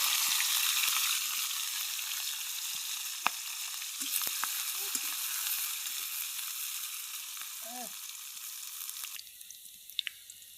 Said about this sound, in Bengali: এগুলো আগে ভাজে নেব।